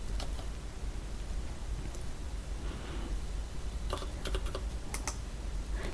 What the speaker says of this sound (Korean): 키보드에서 오른쪽 대괄호 누르면 이렇게 커지고요